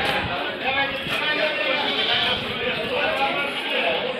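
Gujiri goats bleat repeatedly and loudly over a dense crowd of animal noise, close by, with someone talking throughout.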